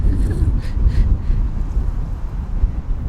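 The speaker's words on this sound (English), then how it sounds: "And a giant gust of wind." A strong gust of wind buffets the microphone outdoors and produces a loud, rumbling roar of low noise that lasts through the whole three seconds with no clear speech.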